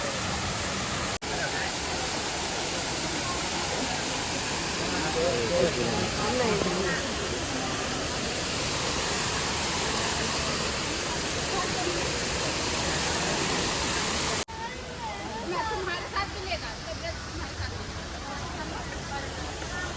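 Loud, steady rush of falling water in a park fills the scene, a broad roaring hiss that continues throughout, with faint voices beneath it.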